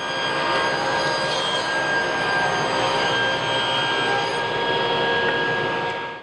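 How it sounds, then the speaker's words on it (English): A table saw fitted with a 24-tooth ripping blade cuts solid cherry hardwood boards, giving a loud, steady, continuous whine with a rushing roar that holds for the whole stretch, with no talking. "I'm now going to rip the boards down to maximum width to get the most yield out of each board"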